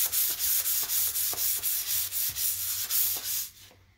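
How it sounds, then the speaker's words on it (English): Painted furniture gets a light hand sanding, a close, rhythmic back-and-forth scratching of about a dozen even strokes, then it stops abruptly with no voices. "I'm just going to give this a light sanding."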